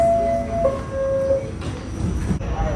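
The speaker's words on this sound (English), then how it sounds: "so here we are on the train" New York subway train at a platform during boarding, a steady loud rumble with a high tonal whine, brief squealing tones and a sudden shift in the noise near the end.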